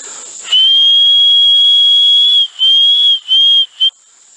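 A person whistles loudly to call racing pigeons, a piercing sustained high note held nearly two seconds, then broken into three shorter blasts, close over a faint outdoor hiss.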